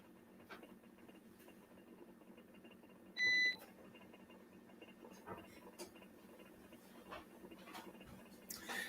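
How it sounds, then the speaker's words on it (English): A single brief electronic beep from a device alarm after power was switched over to battery, a faint high tone against quiet room noise and small clicks and taps. "Now we won't have the beeping either."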